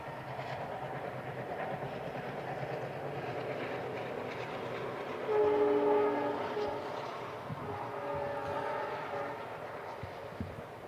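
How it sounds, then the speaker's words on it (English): A train passing at a distance with a steady low rumble and rhythmic rail noise, plus a brief horn-like tonal swell partway through, heard outdoors during a school graduation ceremony. "and the train noise."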